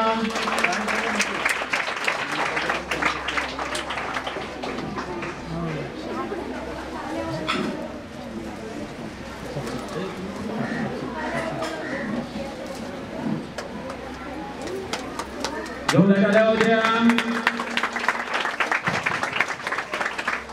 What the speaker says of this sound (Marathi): पुन्हा एकदा सर्व विद्यार्थ्यांनी जोरदार टाळ्या वाजवा